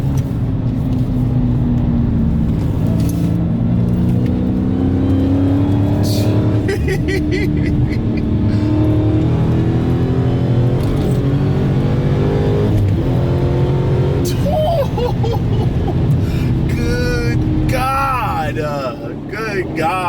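A loud, deep Dodge Challenger Hellcat V8 engine roars and revs hard as the car accelerates up an on-ramp, the pitch climbing through gear shifts, with a voice partly audible underneath.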